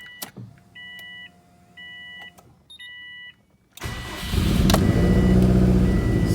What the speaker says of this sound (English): You definitely have a misfire, and you can kind of hear it.